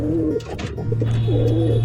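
Spanish pouter pigeon cooing close by, a low steady throaty coo swelling and holding over nearly two seconds, with faint softer bird sounds around it and no talk.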